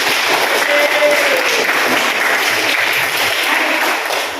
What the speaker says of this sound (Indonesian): Kelompok 1 kembali ke 4, tepuk tangan